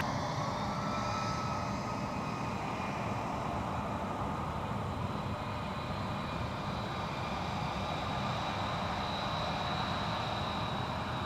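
An airplane lands at MSP airport, its engine roar a steady broad rumble with a high whine held throughout, moderately distant and without voices.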